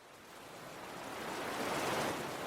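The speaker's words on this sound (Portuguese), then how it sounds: "Barulho do mar." Ocean waves from an ambient sound website, a soft continuous wash of surf that swells gradually louder and settles, steady broadband hiss with no voices.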